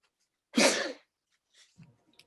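A single loud, explosive sneeze bursts out close by, followed by a short breath and faint rustling in an otherwise quiet room.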